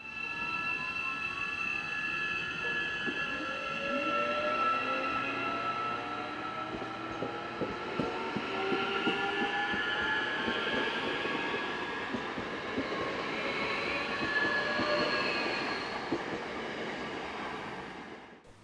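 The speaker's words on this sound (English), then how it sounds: "I hopped on Matangi 4495 to get back to Takapū Road" Matangi EMU electric train, unit 4495, running the evening Wellington to Porirua service: a steady, loud ride with rumbling wheels, rising and falling motor whine, and rail squeals and clicks throughout, fading at the end.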